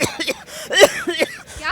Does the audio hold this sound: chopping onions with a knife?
no